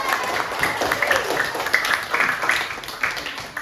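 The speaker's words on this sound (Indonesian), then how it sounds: "Kasih tepuk tangan" Brief, scattered clapping from pupils in a school classroom for a classmate, light and uneven, with children's and a teacher's voices running through it.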